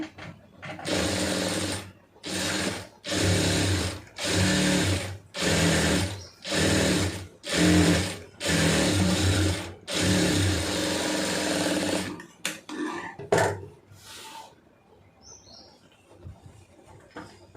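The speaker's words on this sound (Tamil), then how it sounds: "கரெக்டாக ஒரு கால் இன்ச்சு அளவுக்கு தையல் விட்டுட்டே தைங்க" A sewing machine stitches a large sleeve seam in repeated short bursts, about seven loud close runs separated by brief pauses, followed by a few shorter spurts and quiet handling at the end.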